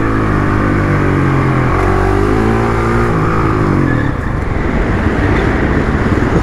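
A supermoto motorcycle on a race track revs hard at close range, its engine pitch climbing and shifting through loud, continuous acceleration.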